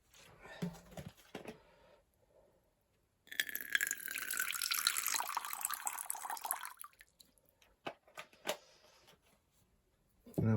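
Water is poured into a small dish inside a tarantula enclosure. A steady splashing trickle lasts about four seconds, with scattered taps and handling noises before and after it.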